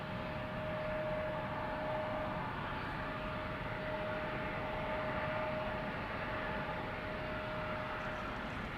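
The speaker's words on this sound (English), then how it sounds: "That was an A350," Airbus A350 airliner departing Amsterdam Schiphol Airport on a sunny day: a steady, loud jet roar with a sustained high whine, holding level throughout with no voices.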